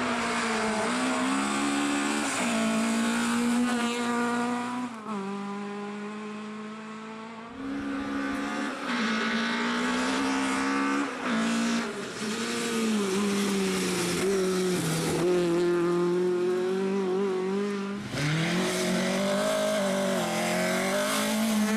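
A Lada 2107 rally car launches at the start of a stage at the 2017 ISEUM Rallye, its engine loud and close, revving hard and climbing through several gear changes with brief dips between pulls.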